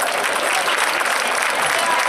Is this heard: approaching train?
no